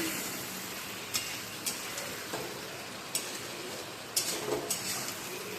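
Ginger-garlic paste with salt and turmeric fries quietly in a pan, a soft steady sizzle broken by a few light stirring clinks, with no voices.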